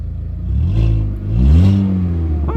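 Volkswagen Jetta with its muffler deleted, revving loudly and close by: two rising throaty surges of raw, unmuffled exhaust that swell and fall back to a rough idle.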